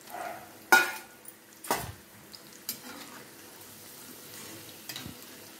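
A quiet sizzle of frying in groundnut oil, for a drumstick pickle, with several sharp clanks of a utensil against the pan and a soft background hiss.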